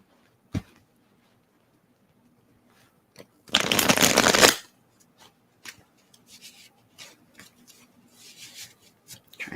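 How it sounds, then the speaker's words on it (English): Playing cards shuffled quietly at close range, one soft riffle lasting about a second, followed by faint taps and card handling in an otherwise quiet room. "Trying to shuffle quietly."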